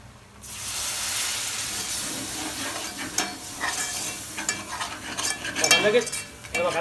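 Homemade chicken curry is stirred in a hot pan, a steady sizzle with the scrape and clatter of the spoon growing busier and louder toward the end, with no voices.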